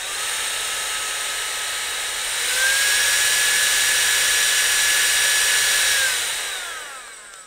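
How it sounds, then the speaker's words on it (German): A Nitecore BB21 electric air blower for cleaning camera and drone gear runs steadily with a loud whirring rush, its pitch rising as it steps up to a higher speed midway, then winding down at the end. No one talks. "Jetzt hat man das hier auch schon mal gehört und gesehen, wie dann quasi dieses Gebläse arbeitet."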